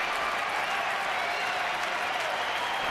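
Baseball stadium crowd applauding during the ninth inning of a Dodgers at Diamondbacks game in Arizona, a steady, distant wash of clapping with no break.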